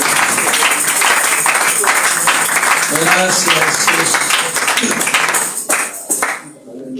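Church congregation claps in steady applause, loud and dense throughout, with a voice speaking over it and the clapping thinning out toward the end.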